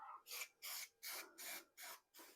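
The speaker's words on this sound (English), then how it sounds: "it's just a case of holding the can a few inches away from the end and spraying with the panel" An aerosol can of K&N filter oil sprays onto a motorcycle air filter panel during a Yamaha R1 superbike restoration: six short hissing bursts in steady rhythm, close and clear with quiet gaps between them.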